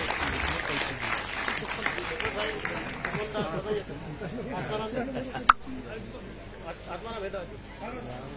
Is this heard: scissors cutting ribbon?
no